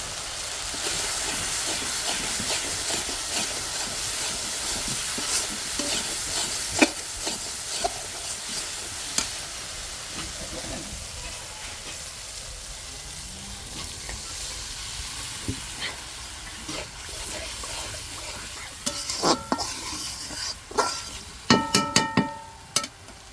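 Curry paste of turmeric, chili and onion sizzles and hisses steadily in a pan, with scattered clinks of stirring growing busier near the end; no talking.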